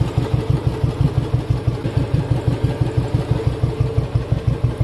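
A UCE motorcycle engine with a manual decompressor idles steadily nearby, a low, even pulsing thump with a faint mechanical clatter, no extra ticking, and no voices.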